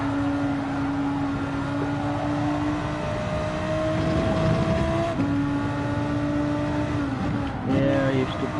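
Racing car engine in a video game downshifting to fourth gear: a sustained whine that drops in pitch at several shift points, with a voice talking over it.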